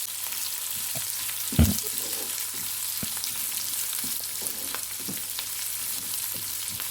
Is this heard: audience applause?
no